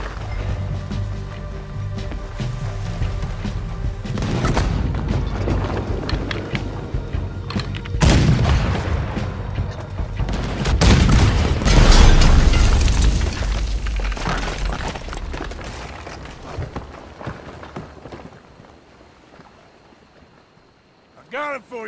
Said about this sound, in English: there's another cannon up ahead on our left